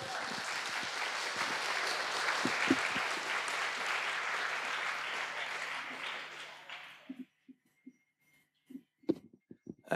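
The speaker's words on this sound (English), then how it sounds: "Big round of applause for our volunteer" An audience at a lecture applauds a volunteer coming up to the stage: dense, fairly distant clapping that holds steady for about seven seconds, then quickly dies away into a few isolated soft knocks.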